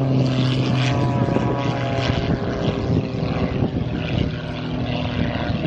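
A loud, steady droning of a propeller aircraft engine close by at an air show, holding a constant pitch throughout with a rough buzzing texture.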